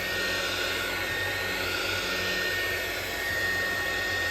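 Heat gun or hot-air blower warming a Wiko View 4 Lite phone to open it: a constant, loud, close rushing hiss of blowing air that holds steady without a break.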